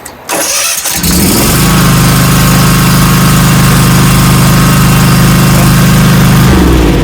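A commercial walk-behind zero turn mower engine starts with a brief crank, catches and settles into a loud, steady idle for several seconds before winding down.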